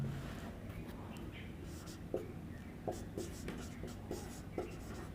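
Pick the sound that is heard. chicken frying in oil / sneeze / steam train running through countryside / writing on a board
writing on a board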